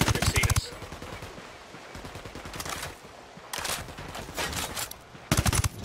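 Loud bursts of automatic gunfire from the video game Ghost Recon Wildlands come in several volleys, with rapid shots and quieter gaps between them.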